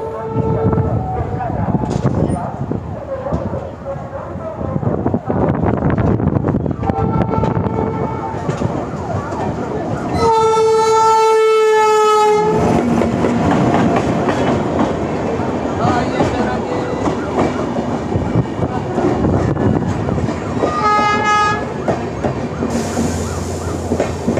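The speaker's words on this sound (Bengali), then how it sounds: "অনেক দিন পর ট্রেন জার্নি করছি" A passenger train rolls along on a long journey, steady rumble and clatter throughout, with a bright horn-like tone sounding for a couple of seconds midway and shorter tonal bursts later, while people talk nearby.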